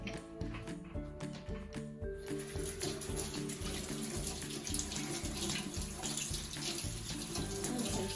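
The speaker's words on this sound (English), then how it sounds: "I have to wash my hands. So let's go over to the sink." A sink tap runs while hands are washed at home, a loud, continuous close splash and gush of water with slight shifts in tone partway through and no speech.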